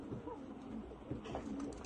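Soft, low cooing from white Mosul pigeons, repeated a few times, mid-distance and fairly faint over a steady background murmur.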